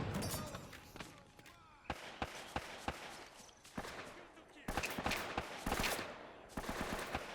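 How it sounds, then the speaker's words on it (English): Single handgun shots in the video game Uncharted: Drake's Fortune, fired one at a time in an uneven rhythm over a busy battle backdrop of other gunfire and effects. "shooting these guys, I'm trying to snipe them here with my handgun"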